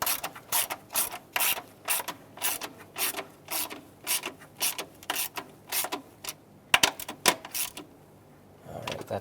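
Ratchet wrench clicking as a coolant temperature sensor's screws are tightened into plastic on a 2008-2010 Ford F250 Super Duty 5.4L V8, a close, steady series of quick ratcheting bursts that stops near the end.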